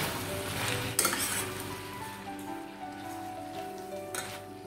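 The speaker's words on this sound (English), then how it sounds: "Add tomato pieces. Mix well." Chopped tomato pieces are stirred into a hot pan of onions and prawns, bringing a steady, rain-like sizzle and occasional clinks of a spoon against metal, with no voices.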